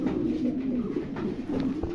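A young adult female pigeon coos in a low, continuous, throaty murmur, heard up close, with soft rustling beneath.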